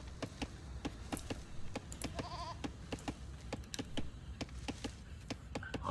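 Sheep bleating in a real-time strategy video game match, a short wavering bleat set among steady rapid clicking and tapping, all fairly faint.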